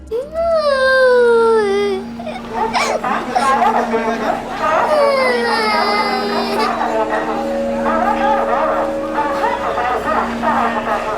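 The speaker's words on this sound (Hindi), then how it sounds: "उतने में मैंने रोने की आवाज़ सुनी।" A young girl cries and whimpers at a busy railway station in Borivali, her wavering sobs loud and close, with people talking around her over a steady station hum.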